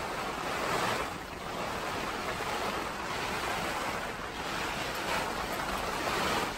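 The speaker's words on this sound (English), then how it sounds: "It's been raining like this the whole time we've been here" Heavy rain and gusty wind roar against a tent in Kodiak, Alaska, a dense continuous wash of noise that swells and eases with the gusts.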